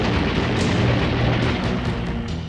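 A wartime aircraft hit by a burst of gunfire, rendered as a dense, loud booming roar with sharp impacts scattered through it, sustained across the whole moment.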